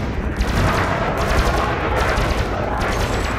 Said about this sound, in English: The turrets are still hitting him though